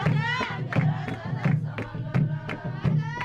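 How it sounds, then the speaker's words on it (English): Crowd at an Ethiopian wedding celebration chanting in rhythmic unison, regular loud pulses of many voices roughly every third of a second, lively and close. "I love what they're chanting, and everyone's having a good time."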